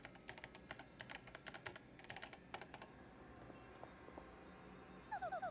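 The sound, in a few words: typing on a keyboard in the Paper Mario video game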